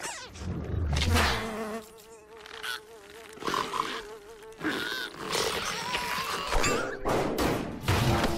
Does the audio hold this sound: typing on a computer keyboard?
no